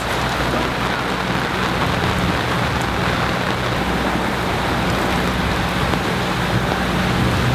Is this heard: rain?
yes